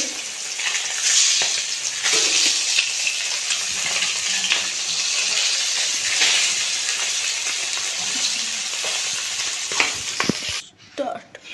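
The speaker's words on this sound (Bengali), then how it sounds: "মাছগুলো প্রথমে ভেজে নিচ্ছি" Katla fish fry in hot oil in a wok, a loud steady sizzle running almost continuously, with a few clinks of stirring near the end.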